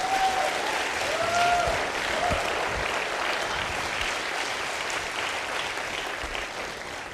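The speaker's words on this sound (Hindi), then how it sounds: "मैं चाहता हूं एक बार तालियां संदीप जी के लिए भी हो" Sustained audience applause for a guest named Sandeep at a live motivational talk, steady and full from start to finish with no voices over it.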